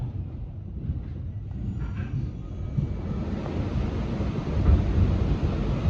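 An R211S MTA Staten Island Railway train rumbles steadily from inside the car, with a low, continuous rolling roar that grows slightly louder toward the end.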